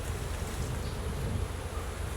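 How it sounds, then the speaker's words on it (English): A swarm of honey bees hums as smoke is puffed into their hive, a dense, continuous buzzing drone heard close up and fairly loud, with no voices over it. "Oh Lord, it's a lot of bees."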